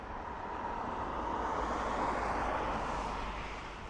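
An Aer Lingus airliner arriving at Dublin Airport from Charles de Gaulle roars past as a steady broadband jet rumble, swelling gently to a peak midway and easing off, with no voices.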